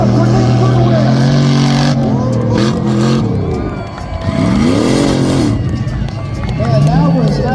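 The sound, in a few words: off-road race truck running on slick track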